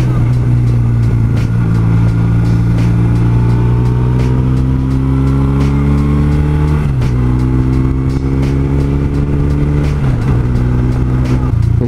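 A motorcycle engine drones loudly on the road, its pitch climbing and dropping through gear shifts, under constant wind rumble.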